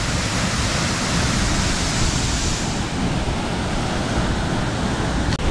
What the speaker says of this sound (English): Have you ever seen a waterfall so big?